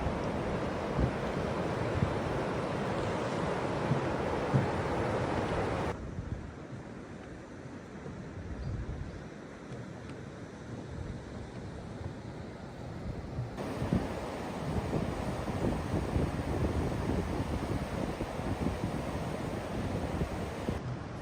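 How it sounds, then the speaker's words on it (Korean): The Hantan River in Cheorwon rushes past in winter with a continuous wash of flowing water, loud at first, then softer for a stretch before swelling again. "게다가 걷는 내내 시원하게 쏟아지는 강물 소리를 듣자니"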